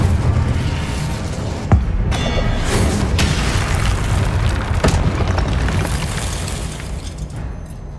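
Fire spell casting in Hogwarts Legacy, a loud burst followed by a continuous roaring, crackling whoosh of flames with a couple of sharp impacts, fading slightly toward the end.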